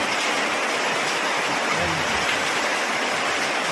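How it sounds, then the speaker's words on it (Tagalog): Very heavy rain pours down in a dense, steady roar during a sudden downpour with strong storm wind, loud and continuous throughout, with a brief voice in the clip. "Sobrang lakas ng ulan din sa amin. Sobrang lakas ng hangin. Parang may bagyo."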